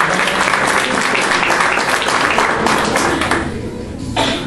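Dense, sustained audience applause for cast members at a Chilean theatre production, loud and continuous throughout, thinning slightly near the end before a final burst.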